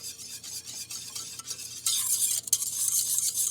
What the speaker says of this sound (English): on medium heat again, you want to whisk this constantly until it thickens up